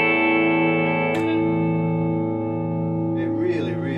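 An Epiphone Les Paul Classic electric guitar in honey burst rings out with long sustain, a chord decaying slowly before a few fresh notes are picked over the lingering tone.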